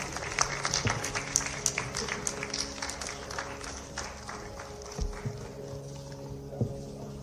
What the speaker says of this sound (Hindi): आप जोरदार तालियां बजा के अपने स्थान से माननीय मुख्यमंत्री जी का स्वागत करें।